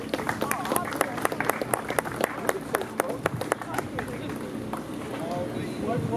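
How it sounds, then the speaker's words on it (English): At an outdoor street sign ceremony in Chicago, a crowd applauds the alderman with sharp, scattered claps that thin out after a few seconds, while voices murmur in the background. "hands up and a round of applause, please, for the alderman, Daniel Espada."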